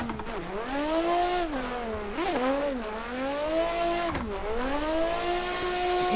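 A Nissan Silvia S15 drift car's engine revs rise and dip sharply through repeated clutch kicks, with tire noise and a continuous loud, close engine drone and no voices.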